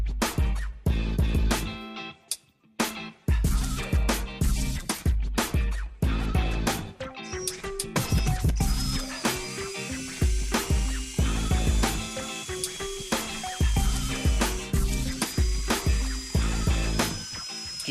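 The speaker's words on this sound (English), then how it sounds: "Just using my drill here with a 7/8 inch hole saw to get as much out as I can." A power drill whines and grinds steadily as a 7/8 inch hole saw bites into wood clamped to a workbench, close and loud, with brief pauses and restarts early on.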